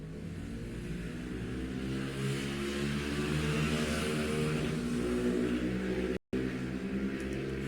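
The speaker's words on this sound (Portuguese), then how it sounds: "Escutaram a moto?" A motorcycle passes on a busy avenue outside an apartment, a steady engine rumble heard from indoors that holds at moderate loudness and swells slightly as it goes by.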